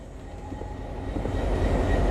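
A train rumbles past a level crossing in a night shift railway crossing simulator game, a steady low roar that swells gradually louder as it draws nearer, with no talk over it.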